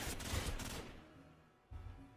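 Gunfire in a video game match comes through as muffled bursts of rapid shots, a dense volley at the start and a shorter burst near the end, faint and distant in a quiet mix.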